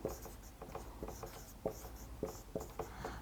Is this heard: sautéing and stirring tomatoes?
no